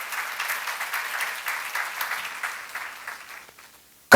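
A church seminar audience claps together in steady, full applause that tapers away after about three seconds, and a brief loud knock follows at the very end.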